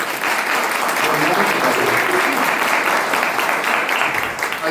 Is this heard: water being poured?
no